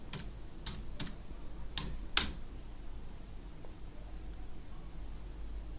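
A computer keyboard on a Windows 10 machine as a site name is typed in: a handful of sparse, separate key clicks, quiet and close, with no voices.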